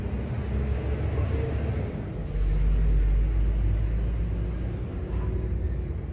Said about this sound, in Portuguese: Esperando o carro passar, gente, barulhento.